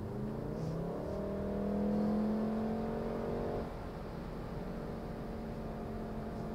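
A 2019 Volkswagen Golf R engine revs up under acceleration to pass, a steady rising drone that swells for a few seconds, then eases back to a constant cruising hum with road noise.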